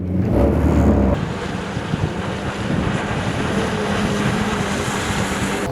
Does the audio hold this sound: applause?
no